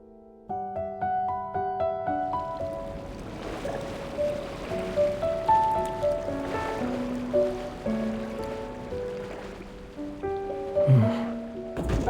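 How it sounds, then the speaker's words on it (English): Ocean waves washing onto a shore in the Love & Deepspace video game, a steady surf wash beneath soft sustained musical tones, with no voices present. "Listening to the ocean might help us fall asleep."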